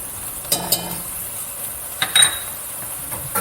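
Eggplant soup with turmeric is stirred in a pot over medium heat, a few light clinks of a spoon against the pot over a steady soft sizzle and hiss.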